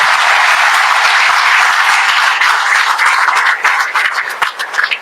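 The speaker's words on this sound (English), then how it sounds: "Kindly give a big clap." An audience at a community ophthalmology conference inauguration gives loud, sustained applause that thins out toward the end into scattered individual claps.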